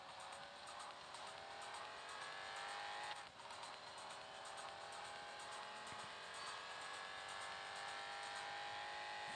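Cars racing in the Real Racing 3 mobile game, classic versus new muscle cars, with a steady loud engine drone and tyre noise running throughout and no talk.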